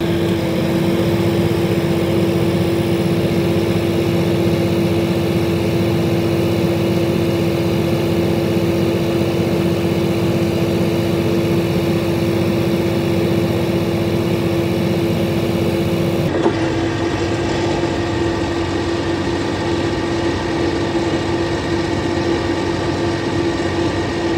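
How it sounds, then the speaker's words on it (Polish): An Arbos 2040 tractor engine runs steadily in first gear at about 1800 rpm, a constant, close droning hum that shifts slightly in tone partway through and carries on alone without any voices. "Załączony pierwszy bieg w ciągniku Arbos 2040 daje około 2 km na godzinę według GPS, przy obrotach 1800 na minutę"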